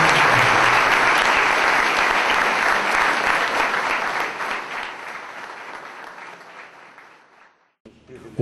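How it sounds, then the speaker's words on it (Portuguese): Audience applause at a Brazilian Army officer training center ceremony, loud and dense at first, then gradually thinning and fading to near silence. "Uma salva de palmas."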